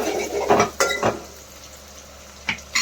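Onions being stirred with green chillies in a pan for a cabbage keema fry, a few close metallic scrapes and clinks of a spoon against the pan over a faint sizzle.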